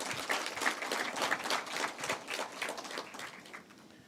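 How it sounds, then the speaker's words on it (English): Audience applause after a speech at a KenGen Kenya event: dense, steady clapping from a crowd that holds at a fairly even level, then thins and fades near the end. "We really do appreciate a round of applause for him again"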